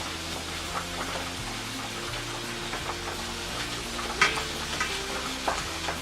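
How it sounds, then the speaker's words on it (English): Ground beef sizzles softly in a pan as a spoon breaks it up, with steady frying crackle and occasional light scraping taps against the pan under low background tones. "while the ground beef is cooking"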